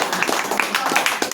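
A group of women at a refreshment course for mothers claps hands in a few quick, fairly regular beats, close and lively, with voices mixed in.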